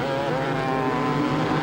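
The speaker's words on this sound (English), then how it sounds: "when the flag drops, they'll start their machines and off they go" Several motocross bikes fire up together at the start of a 1999 scramble race, a dense, steady engine drone with layered buzzing running unbroken throughout, fairly loud and close.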